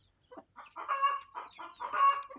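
A country chicken, ailing after a change in weather, gives a few short clucks and throaty calls in quick succession, close and clear against a quiet background.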